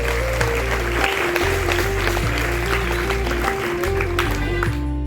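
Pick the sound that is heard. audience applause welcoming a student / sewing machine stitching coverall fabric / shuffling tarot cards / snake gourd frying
audience applause welcoming a student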